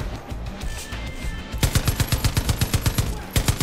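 Rapid automatic gunfire in Far Cry 5: after a quieter rumbling stretch, a steady burst of about fifteen loud, evenly spaced shots rattles off close by, then a final shot after a short gap.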